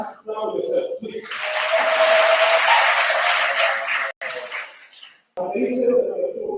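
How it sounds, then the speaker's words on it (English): Audience applause at a women's leadership academy event, a broad burst of clapping from a seated crowd that swells for a few seconds, then breaks off, with a voice speaking before and after it. "So I ask you to clap for yourself"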